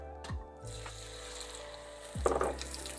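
Beaten eggs for an omelet hit a hot frying pan during beach cooking, giving a soft sizzle that swells louder after a couple of seconds over faint outdoor background noise.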